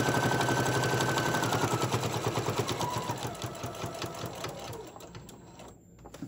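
A home sewing machine stitching fat-quarter fabric hot pads, its needle running in a steady, fast mechanical chatter that slows and winds down toward the end, heard close with no talk.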